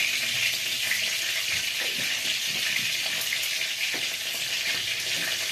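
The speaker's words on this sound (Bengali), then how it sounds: "একটুখানি এই যে জিরা ফোড়ন দিচ্ছি।" Cumin seeds and two dried red chillies fry in hot oil, giving a steady, close, bright sizzle with faint crackles throughout and no talking.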